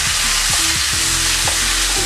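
Kottayam-style beef fry being stirred with masala in a pan, a steady loud sizzle with repeated scraping strokes of a spoon against the metal, no voices.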